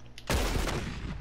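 A loud, close burst of gunfire from a gun in Red Dead Redemption 2 erupts suddenly after a brief quiet moment, then rings out and rolls on to the end.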